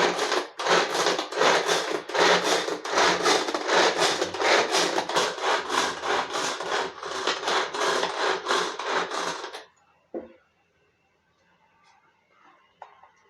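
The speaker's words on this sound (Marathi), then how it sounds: "मला कांदा कटिंगसाठी आणि टोमॅटो कटिंगसाठी हेल्प करते आहे" A knife chops onion finely on a board in a home kitchen while bhel is made, a fast steady run of close, loud chopping strokes for about ten seconds, then quiet with a few faint clinks.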